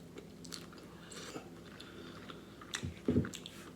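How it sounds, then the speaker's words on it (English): Loaded sweet potato fries are bitten and chewed, with soft, faint mouth sounds early on and a louder, close crunching bite near the end in an otherwise quiet room. "I'm ready for this first bite"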